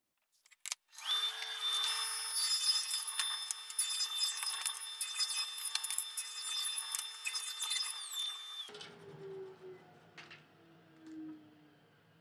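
A power tool cutting wood into cross pieces for an 18th-century chest of drawers, a loud, steady whining drone running about eight seconds, then stopping and leaving faint workshop sounds.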